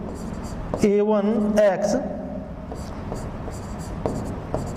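Scratchy strokes of writing on a board during a maths lesson on polynomial functions, heard close beneath a teacher's steady spoken explanation.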